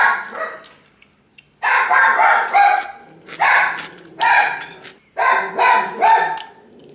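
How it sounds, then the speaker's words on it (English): Several dogs bark indoors in loud, close bursts of repeated yips and barks, separated by short pauses. "Dogs will not stop barking."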